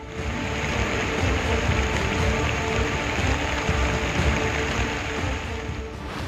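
Heavy monsoon rain falls in Mumbai as a loud, dense, steady hiss of drops striking hard surfaces. It continues without pause or voices.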